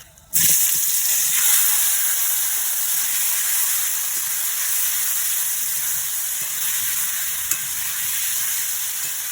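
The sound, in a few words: chicken being added to hot pan, sizzling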